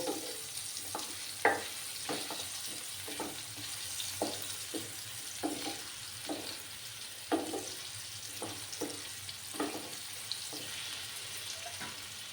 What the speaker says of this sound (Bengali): আলুটা ফ্রাই হতে বেশি সময় লাগবে না যেহেতু নতুন আলু একটু লাল করে ভেজে তুলে নেব